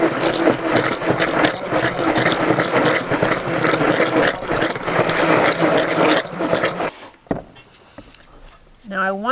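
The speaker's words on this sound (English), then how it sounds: "we're definitely going to use that mixer" A mixer whirs loud and steady through goat milk soap batter with cocoa and mint, a dense mechanical drone that cuts off abruptly near the end, followed by brief quiet rustles.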